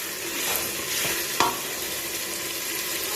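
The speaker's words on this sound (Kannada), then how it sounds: "ಈಗೆಲ್ಲ ಚೆನ್ನಾಗಿ ಫ್ರೈ ಆಗಿದೆ" Masala fries in a pot for chicken biryani, giving a continuous close sizzle and crackle, with a single sharp utensil tap partway through and no voices.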